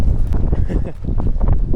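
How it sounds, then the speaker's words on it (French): Strong wind buffets the microphone at Bellewaerde amusement park in a steady low rumble throughout, with gusty surges and faint voices mixed in. "il y a quand même beaucoup de vent"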